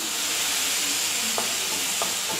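Chicken 65 masala cooks over a low flame, a steady loud hissing sizzle that stays even throughout, with a couple of faint soft knocks from a utensil.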